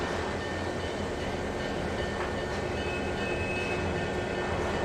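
A train rolls along in the Trainz 2022 simulator on Midwestern rails, a steady broadband rumble with faint tonal whine and even, unbroken running noise, no talk over it.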